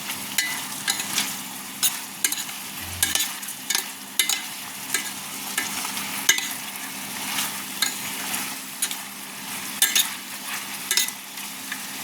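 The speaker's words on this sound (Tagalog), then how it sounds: "Gisahin pa natin para lumabas yung lasa." Chicken for native chicken soup sautéing in a pan, browning as it cooks, with a steady soft sizzle and intermittent stirring scrapes throughout, close and moderately loud, with no talking.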